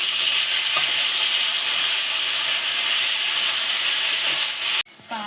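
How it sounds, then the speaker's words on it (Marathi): Pumpkin roasts in a hot pan with cardamom and dry fruits for halwa, giving a loud, steady sizzle and hiss that runs without a break until it drops off abruptly near the end. "त्यानंतर हा भोपळा टाकायचा आहे। याला मीडियम 4 ते 5 मिनिटं भाजायचं आहे।"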